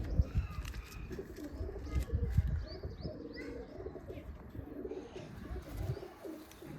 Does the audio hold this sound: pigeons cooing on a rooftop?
yes